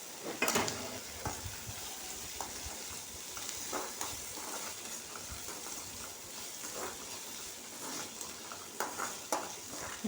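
Beans, potato and carrot sauté in a hot pan for macaroni pasta, giving a steady sizzling hiss broken by frequent scraping and stirring clatter of a utensil against the pan, close and moderately loud.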